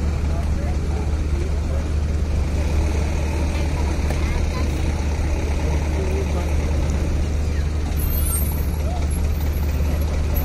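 Trucks and other vehicles rumble as they unload from the KMP DLN Oasis ferry, a continuous low engine drone with idling and faint hisses in an enclosed car deck, with no clear voices.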